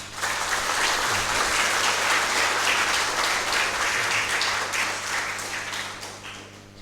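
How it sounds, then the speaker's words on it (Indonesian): A church congregation gathered for a new church building's blessing gives a loud, sustained round of applause to welcome the governor, dense clapping that swells quickly and tapers slightly toward the end. "Kita sambut Bapak Gubernur dengan tepuk tangan."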